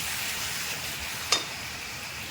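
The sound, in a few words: stirring and frying spice masala with water in pan for fish curry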